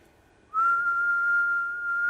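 A steady 1,000-cycle television sign-off test tone starts abruptly and holds a single unwavering pitch, loud and clear, with nothing else heard.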